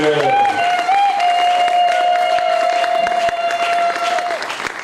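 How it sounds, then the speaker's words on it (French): Wedding guests at a religious marriage ceremony applaud steadily and loudly in a hall, while a held sung or spoken tone carries over the clapping. "Je nous prie d'acclamer le Seigneur afin de nous encourager."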